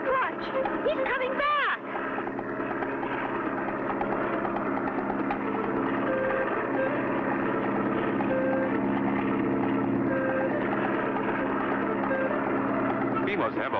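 An old propeller airplane engine in a cartoon drones steadily and loudly, rising slightly in pitch at the start, with continuous mechanical hum throughout.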